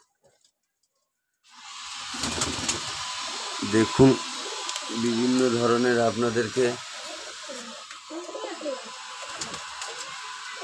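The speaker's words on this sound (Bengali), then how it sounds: "এগুলা হচ্ছে কবুতর বলে, পায়রা পাখি বলে।" Pigeons coo in soft, low, rolling calls, close by, with a steady hiss in the background and a person talking over them.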